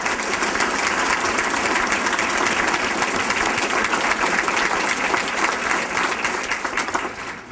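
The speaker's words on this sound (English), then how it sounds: "So I have a big round of applause for that." Loud, continuous round of audience applause at a Citizen of the Year ceremony, a thick steady roar of many hands clapping that stays strong to the end, with no talking over it.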